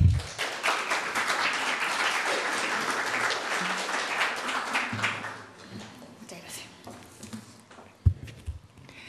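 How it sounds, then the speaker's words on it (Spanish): Audience applause at a Chilean conference on artificial intelligence, a full crowd clapping steadily before it thins out, followed by quieter room noise, footsteps and a speaker stepping up. "Un aplauso, por favor"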